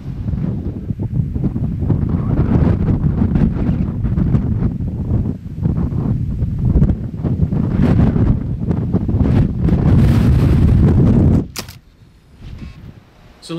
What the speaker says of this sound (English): the wind is blowing it over